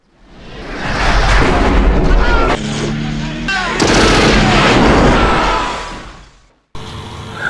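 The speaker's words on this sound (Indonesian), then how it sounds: "Adegan tembak-tembakan pun terjadi, ledakan di mana-mana" Action movie gunfight with explosions everywhere, heard as loud, sustained booming blasts and rumbling gunfire that swell, briefly dip, roar again and then cut off.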